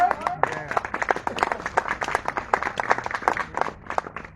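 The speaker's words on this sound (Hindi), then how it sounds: "जोरदार तालियों से स्वागत किया जाए।" An audience at a religious storytelling gathering about Lord Ram breaks into rhythmic, fairly loud clapping, sharp individual claps close together throughout, with a voice faintly present.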